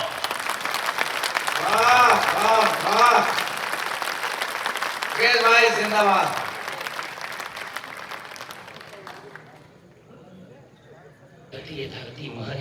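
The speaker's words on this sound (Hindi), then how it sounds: "इसकी 1 मिनट तक तालियों की गड़गड़ाहट" Thunderous audience applause at a Hindi poetry recital, dense crowd clapping rolling on for several seconds under someone shouting praise, easing off briefly before more clapping returns.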